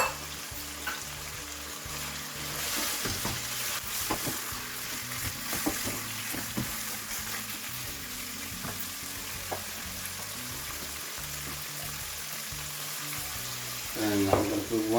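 Ginger and garlic paste sizzles and fries steadily in a pan of lamb chop masala curry while being stirred, with scraping and clatter from the spoon throughout, close up, and a brief voice near the end.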